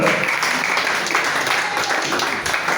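A church congregation applauding to acclaim Jesus: dense, continuous clapping from many hands that fills the whole moment, with voices mixed in.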